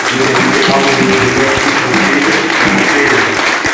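A crowd applauds loudly and continuously for the ladies at a Sunday gathering, with dense clapping throughout and voices mixed in underneath.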